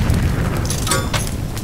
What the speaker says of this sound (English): That's a nice explosion. Explosions are good.